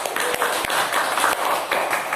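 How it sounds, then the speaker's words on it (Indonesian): Classroom applause for a pupil named Safira, a brief dense patter of many small hands clapping together, close and fairly loud. "kita berikan tepuk tangan Safira"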